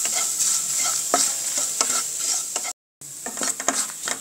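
Ground spice paste with asafoetida is sautéed in a pan, with repeated spoon scrapes and stirring strokes over a light sizzle. The sound cuts out briefly for a moment of silence, then the stirring resumes.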